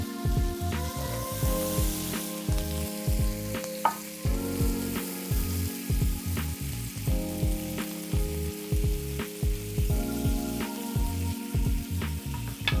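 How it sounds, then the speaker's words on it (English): Potatoes sauté in oil and butter in a hot pan, a steady close sizzle with recurring stirring and scraping clatter throughout, no voices. "We're gonna saute those until they're nice and brown."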